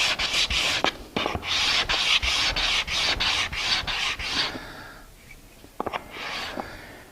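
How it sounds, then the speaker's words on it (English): Sanding the end grain of a wooden raised panel with 220-grit sandpaper: a rapid series of close, rhythmic rasping strokes, then a pause and a few lighter rubs near the end. "Now what my objective is I'm going to sand. This is back to that, I still got 220 on here."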